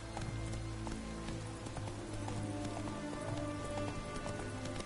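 Horse hooves clip-clop in The Witcher 3: Wild Hunt as the rider moves through a soldier-filled area, a steady rhythm of close, moderately loud steps over continuous ambient game sound.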